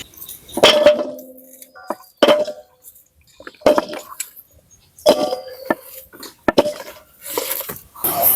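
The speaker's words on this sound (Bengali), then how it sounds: "আজকে ফ্রাইড রাইসের জন্য সুন্দর করে ক্যাপসিকাম গুলো কেটে নিচ্ছি" A knife cuts capsicum (bell pepper) for fried rice, making close, irregular sharp taps and knocks in short bursts separated by quiet pauses.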